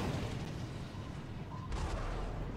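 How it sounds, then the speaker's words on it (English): A missile interception explosion in the nuclear war strategy game ICBM: a steady roar of battle noise, then one sudden broadband blast about two-thirds of the way through that hangs on as a rumbling wash. "Missile intercepted."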